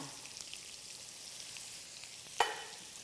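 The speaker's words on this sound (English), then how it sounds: "we're starting kind of a roux or a gravy. They are always the bases of the same. I'm going to go ahead and add my flour to that." Flour sizzles in a pan as a roux starts for an oyster pot pie, a soft steady frying hiss with one brief sharp clink.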